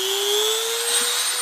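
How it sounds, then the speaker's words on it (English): Dremel rotary tool at about three-quarter speed polishing a Winchester 1897 shotgun receiver with metal polish, a steady high-pitched whine with a faint slow upward drift in pitch, heard alone. "take the Dremel, start it up to about 3/4 speed"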